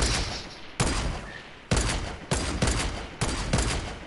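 Gunfire in a video game: a steady wash of rapid shots, with bursts punching in sharply every half second or so.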